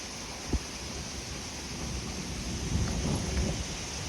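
Low thunder rolls in a long, steady rumble just before rain, with a faint hiss of drizzle and wind building beneath it. One brief thud comes early, and no one speaks.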